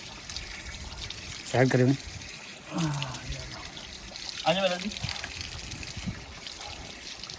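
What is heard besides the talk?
tap water running while washing hands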